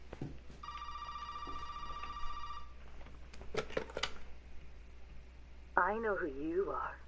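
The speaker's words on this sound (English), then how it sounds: "Now we're going to answer the phone for the first time." A telephone rings inside the Resident Evil 7 video game with a steady electronic bell tone lasting a couple of seconds. It is followed by clicks and thumps, then a wavering, warbling electronic sound near the end.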